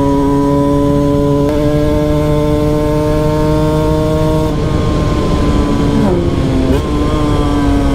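Cagiva Mito Evo 125 two-stroke motorcycle engine revving loudly up close, a sharp buzzing whine holding steady pitch, then dropping and wavering as the throttle is blipped and released.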